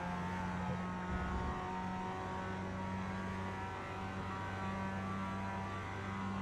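Mazda MX-5 Cup race car lapping Laguna Seca in iRacing, a steady humming engine drone with little change, heard from inside the car at low level.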